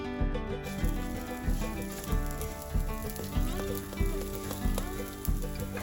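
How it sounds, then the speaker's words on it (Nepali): Soaked rice fries in hot ghee with spices for kheer, a bright continuous sizzle broken by regular stirring strokes roughly every half second, close and loud with no voices. "तातो घिउ र मसलामा यसरी चामल राखिसकेपछि अब 2 मिनेट राम्रोसँगले भुट्ने"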